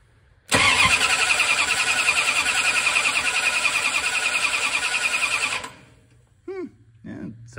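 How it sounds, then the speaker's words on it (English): A 1967 Dodge Charger with a 383 big block engine cranks loudly for about five seconds with a steady, even rhythm, then stops, followed by a couple of brief faint noises. "I'm curious if it will sound any different when it's cranking."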